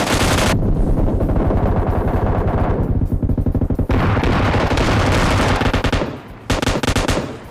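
Intense automatic gunfire rattles through a fierce squad battle in PUBG Mobile, dense bursts of rapid shots stacking up loudly with brief pauses between them.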